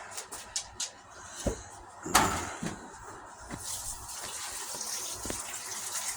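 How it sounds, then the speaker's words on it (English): Hands are washed under a running tap in a home kitchen. Scattered knocks and clatters come first, with one sharp splash burst, then a steady close flow of water runs on to the end. "I'm just washing my hands"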